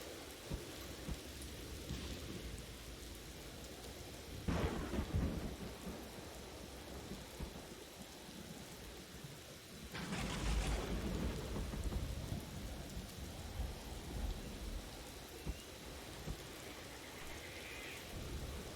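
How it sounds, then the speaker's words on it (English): Steady rain falling in the game Empyrion, a constant hiss throughout with two rumbling thunder crashes, one brief near the five-second mark and a longer, louder roll around ten seconds. "Comes the rain."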